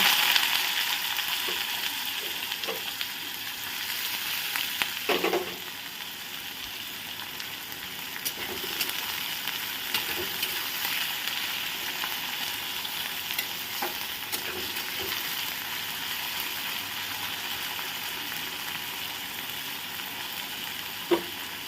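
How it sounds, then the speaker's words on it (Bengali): Chopped onion frying in oil with whole garam masala, a continuous steady sizzle broken by occasional scrapes and knocks of a spoon stirring the pan, moderately close and without talk. "পেঁয়াজটাকে আমি খুব ভালোভাবে নাড়াচাড়া করে ভেজে নিচ্ছি"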